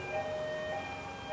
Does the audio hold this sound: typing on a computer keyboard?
no